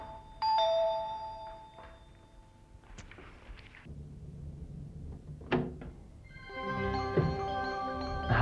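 An electronic doorbell rings loudly at home in two separate bursts, a chime early on and a longer ringing later, with softer thuds and movement between them.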